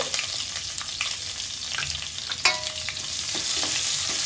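Chopped onion and three green chillies sautéing in hot oil for jeera rice, stirred steadily, with a continuous close sizzle and soft spoon scrapes and one brief clink, with no talking.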